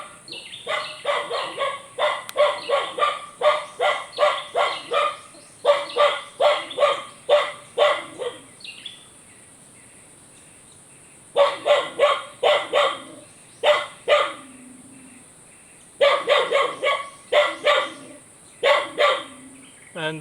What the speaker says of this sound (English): and the dog is annoying.